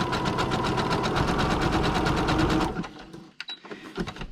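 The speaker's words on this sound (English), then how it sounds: "I'll just put it up to a zigzag stitch and give it a zigzag across" A sewing machine runs a zigzag stitch across paper and fabric with a fast, steady mechanical chatter close by, then stops, leaving a few small clicks and handling sounds.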